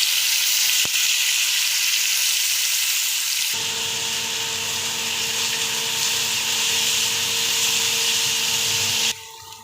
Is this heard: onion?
yes